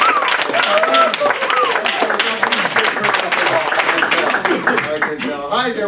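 An audience at a comedy magic show applauds a young woman from the crowd, steady clapping mixed with talking and voices throughout.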